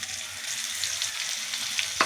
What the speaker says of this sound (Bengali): আলুটা আর উচ্ছেটা আমি একসঙ্গে ভেজে নেব